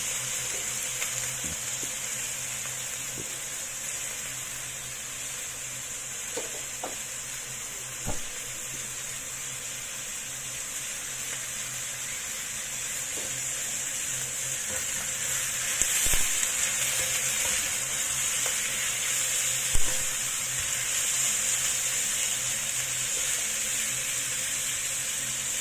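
Pork belly sizzles and fries in a pan while cooked down with beancurd, a steady, moderately quiet hiss with occasional small pops and clicks throughout.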